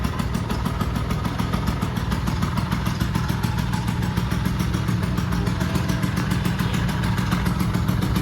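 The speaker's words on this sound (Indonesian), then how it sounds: "saya tarik cuknya. Nah langsung nyala. Jadi masih normal untuk Vespa-nya." A 1948-era vintage Vespa PTS Special 90 scooter engine runs steadily at idle after a choke start, a loud, continuous clattering two-stroke putter with an even rhythm close by and no talking.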